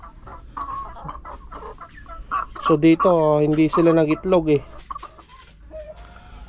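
Chickens cluck and squawk close by in a short, loud burst, with a person speaking quietly before and after.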